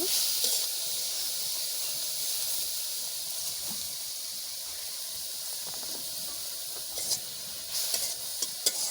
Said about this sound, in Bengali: গরম কড়াইয়ে পরিষ্কার করা চিংড়ি মাছগুলো দিয়ে দিচ্ছি এখন একটা চুন্নির সাহায্যে খুব সুন্দরভাবে আমি বারবার নেড়ে চেড়ে দেব